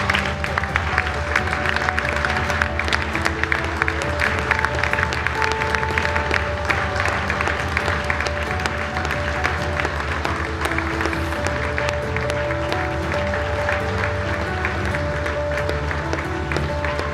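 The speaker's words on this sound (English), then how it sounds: "Have everybody stand and give these two courageous young ladies a huge round of applause." A crowd claps steadily throughout at a high school ice hockey game between Merrill and D.C. Everest. The applause is loud and dense, with faint tonal sounds underneath.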